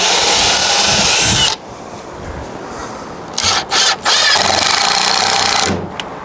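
Power drill driving screws into a wooden 2x4 stud plant stand, loud and close: a sustained whirring burst, a short pause, then two more runs of high-pitched drilling with brief gaps between them.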